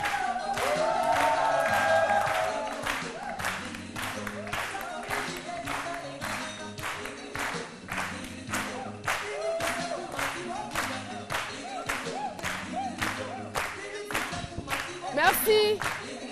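Applause and clapping from a studio audience during a live TV midday show, sustained steady claps lasting the whole stretch with a few voices beneath.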